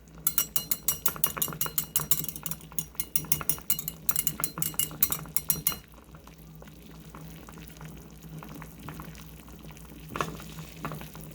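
A whisk beats a melting homemade hair-growth mixture in a pot, making rapid rhythmic metallic ticks against the pot for several seconds, then a softer bubbling simmer with occasional scrapes, close and fairly quiet.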